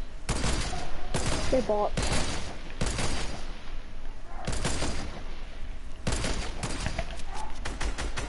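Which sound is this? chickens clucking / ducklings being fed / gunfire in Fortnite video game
gunfire in Fortnite video game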